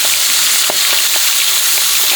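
Small carp fish frying in hot oil, a loud, steady, hissing sizzle close up, with a few soft taps from stirring.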